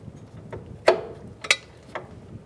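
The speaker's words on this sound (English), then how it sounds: "use our wrench in the back." A wrench ratcheting on the nut of a front sway bar link on a 2007-2015 Mazda CX-9: a few sharp metallic ratchet clicks spaced about half a second apart, close and fairly quiet, with no talking.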